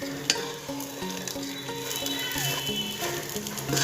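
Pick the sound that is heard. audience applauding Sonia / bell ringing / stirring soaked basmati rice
stirring soaked basmati rice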